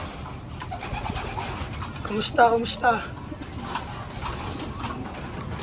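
Soft pigeon coos, low and throaty, repeat in the background as someone speaks briefly, with a louder cluster of bird calls in the middle.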